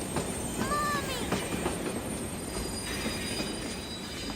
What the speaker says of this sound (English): as he watched the train getting closer